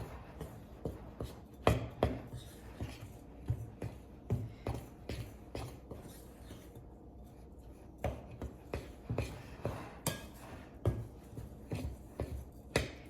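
A crumble crust and topping of melted butter and dry ingredients for berry bars is mixed by hand in a bowl, producing irregular close scraping and rubbing strokes with soft knocks, continuous and fairly quiet, with no talking.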